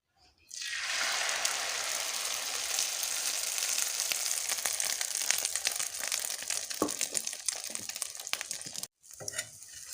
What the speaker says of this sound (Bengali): আগে ডিমটা ভেজে নিই